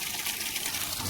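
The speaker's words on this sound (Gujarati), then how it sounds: "હવે હું આ નળના પાણીમાંથી આ કુંડા ભરીશ" Tap water gushes steadily from a faucet into empty plant pots, a continuous close rushing and splashing stream at even volume with no speech.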